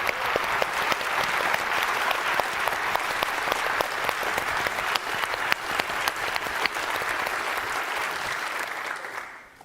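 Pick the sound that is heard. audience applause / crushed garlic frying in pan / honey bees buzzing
audience applause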